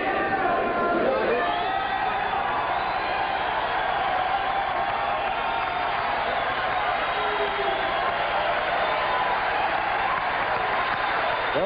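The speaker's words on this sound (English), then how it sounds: "Bill Costello receiving the applause from the crowd." A boxing crowd in an arena applauds Billy Costello after a fight, a steady, loud wash of clapping and crowd noise that holds throughout with no break.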